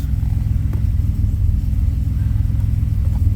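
A car with a chipped stock engine computer runs at a steady idle, its deep, even engine rumble close and loud without revving or talk.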